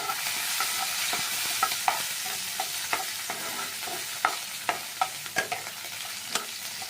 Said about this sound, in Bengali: আর এদিকে টমেটোটা সবটা দিয়ে এবার একটু নাড়তে হবে।